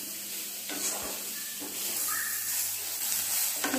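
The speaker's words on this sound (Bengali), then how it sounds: "তো সয়াবিনগুলো ফ্রাই করা হচ্ছে।" Soybean chunks frying in a pan give a soft, continuous sizzle and hiss with a few brief louder crackles, fairly faint and without talk.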